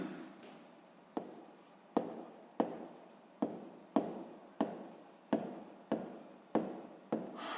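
Pen writing by hand on paper during a sixth-grade math exercise, with regular strokes repeating about every second, close and clear, with no talking over them.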